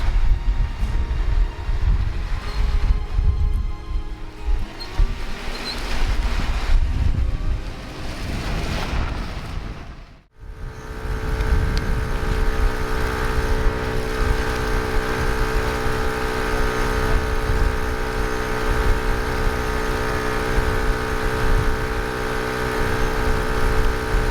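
Jeeps crawling off-road over moguls, a steady loud engine drone and rumble with rattling, broken by one brief sharp dip partway through before the grinding resumes.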